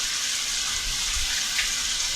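About two cups of water pour into a pot of Jamaican brown stew chicken, a steady close hiss of running liquid throughout with no speech.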